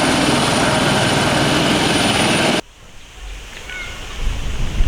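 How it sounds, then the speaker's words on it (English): A loud helicopter drone with dense blade whirr fills the first half, then cuts off abruptly to a quieter rumble that slowly swells again. "Wow, this is a nice helicopter, guys."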